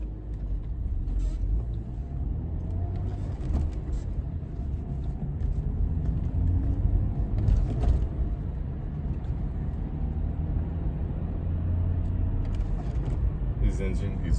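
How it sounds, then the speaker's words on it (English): A steady low rumble of an old BMW E39 523i Touring engine while driving, continuous throughout, with occasional clicks and talk mixed in. "This engine is really creamy."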